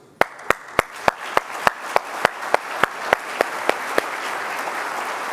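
A convention audience applauds in a broad, steady wash, with a series of sharp, evenly spaced individual claps standing out close by.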